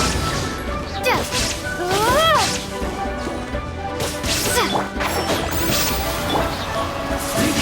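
A sharp magical shattering burst with rising swooshes and crashing impacts from Genshin Impact, layered over dense game music and effects.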